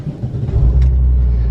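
Porsche 993 Turbo engine cranking and catching, swelling into a loud, deep idle rumble that settles and holds close by.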